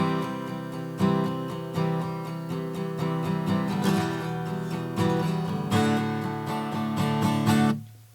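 Acoustic guitar strums through the chord cycle of a song, each chord struck firmly and left ringing for about a second before the next change, played alone and close with no voice.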